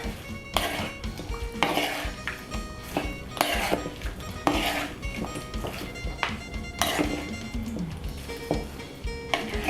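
Thai spicy salad is tossed with celery leaves in a bowl, with constant close clinking and scraping of utensils against the dish in a busy, repeating rhythm.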